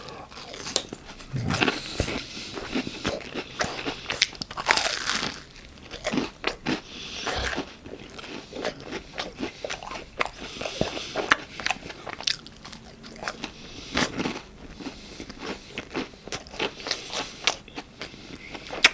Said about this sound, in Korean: 멘보샤는 뿌링 크 뿌링 소스에 찍어 먹어야지